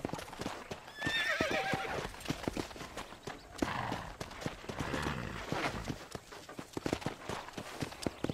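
A horse in Red Dead Redemption clip-clops along with close, rhythmic hoofbeats on the ground and lets out a loud neigh early on, the hooves continuing steadily afterward.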